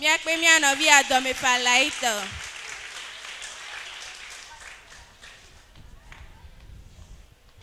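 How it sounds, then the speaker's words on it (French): Audience applause rises faintly in a church gathering after a singing voice cuts off, settling into a soft, scattered patter of clapping that fades toward the end. "Sous vos acclamations."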